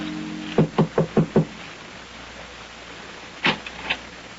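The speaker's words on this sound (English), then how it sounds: "knocks at the door of number 16 Rue de Roche" A radio drama sound effect of knocking on a Paris apartment door: five quick evenly spaced raps, a pause, then three more knocks, close and clear against a quiet hiss.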